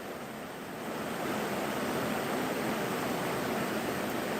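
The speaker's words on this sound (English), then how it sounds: "So the rain that is pouring on the outside, he's saying that it sounds good." Heavy rain pours steadily outside, a dense, even wash of hiss that swells slightly at first and then holds constant, with no voices over it.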